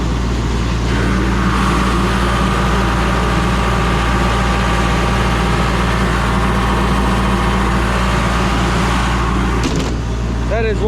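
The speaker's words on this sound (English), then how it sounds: "That is one heck of an air compressor, folks." A LeRoi air compressor's diesel engine idles close by, a loud, steady low drone with constant hum and rattle running throughout, ending with a brief squeak near the close.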